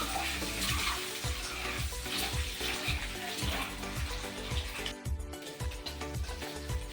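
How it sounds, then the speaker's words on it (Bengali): Eggs frying in hot oil in a pan for an egg curry, a steady crackling sizzle with repeated scraping or stirring strokes throughout, fairly close and continuous with no talk. "এইখানে আমার লাল লাল করে ডিম ভাজা হয়ে গেছে"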